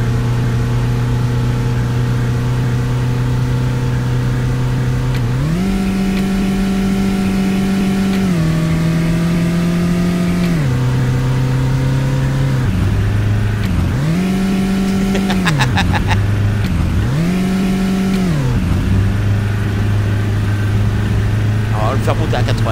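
A bus engine in the Tourist Bus Simulator driving game revs up and down in repeated loud surges, with the pitch climbing and falling several times over a steady drone.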